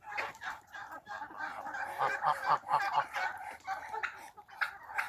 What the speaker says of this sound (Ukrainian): Там індики вже виясняють відносини з курми.